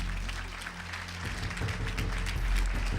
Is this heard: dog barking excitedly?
no